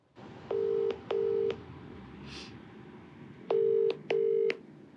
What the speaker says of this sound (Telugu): సో నెంబర్ ఇచ్చిందండి, నేను కాల్ చేసాను మేడం.